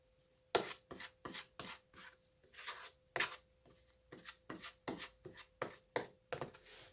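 A two-part compound, set like epoxy, is stirred by hand for a repair on a Duncan Phyfe pedestal, giving close, rhythmic rasping scrapes in quick strokes of varying loudness with short pauses between them.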